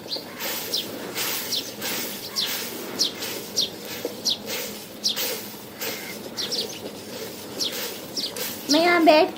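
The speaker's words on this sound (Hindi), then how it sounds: "मैं यहाँ बैठ के ना सामने वो चिड़ियों का नज़ारा देख रही हूँ, बहुत सारी आती हैं इस टाइम पे" Many birds chirp outside, their short tweets recurring in bursts with a clearer call near the end, heard under household noise and a nearby voice.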